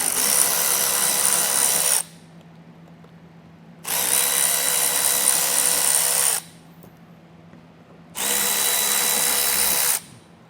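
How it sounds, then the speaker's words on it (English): Three bursts of a power drill driving a T30 Torx bit spin out fascia screws on a 2023 Ford Maverick, each whirring steadily for about two seconds with short quiet gaps between. "It's going to be a T30 Torx bit to get those taken off."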